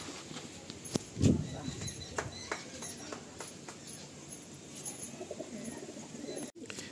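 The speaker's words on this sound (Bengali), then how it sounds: "দেখুন এরপর একটা পায়রা দেখানো হচ্ছে" Madrasi pigeons at a loft give soft, low cooing, with one fuller coo early on and scattered faint calls and clicks against quiet background noise.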